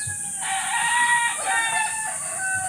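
A fighting rooster on a farm in Negros crows once, a loud close call with harmonic tones that rises and trails off, standing clearly above the quiet farmyard.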